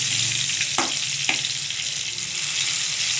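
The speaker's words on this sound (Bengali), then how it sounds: "আমি একটু ঢেকে দিচ্ছি তাড়াতাড়ি ভাজা হওয়ার জন্য" Eggplant slices sizzle steadily in a frying pan, a constant bright crackle with two brief sharper clinks or stirs near the start, close up and free of speech.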